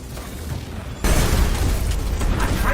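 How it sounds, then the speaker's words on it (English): In the video game Rise of Iron, a low rumbling boom kicks in after a second and continues as a loud, dense wash of blasts and crackling debris. "but the explosions are not helping"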